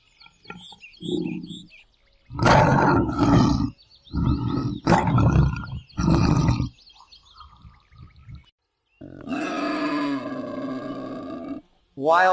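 A lion roars in several loud, rough bursts separated by short pauses, with a longer, sustained roar near the end.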